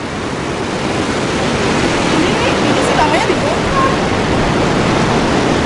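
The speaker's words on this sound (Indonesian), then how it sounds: "Tapi ini ombaknya lagi tinggi nih, lagi agak pasang" High tide waves surge at a beach in Sabang, making a loud, constant roar of surf that carries steadily without a break.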